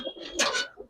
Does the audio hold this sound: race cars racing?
no